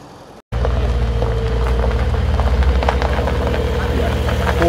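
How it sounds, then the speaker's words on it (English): A Porsche pulls away from a cars and coffee meet, its engine note rising after a brief silence and then holding a steady, close rumble with a low throb. "Porsche leaving."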